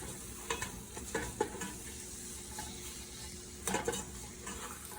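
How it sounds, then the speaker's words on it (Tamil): Mint, coriander leaves and slit green chillies sauté in a pan for chicken biryani. A steady soft sizzle runs under intermittent scraping stirs, with a few louder strokes clustered near the start and end, and no voices. "அதையும் போட்டுட்டு நான் நல்லா வதக்க போகிறேன்."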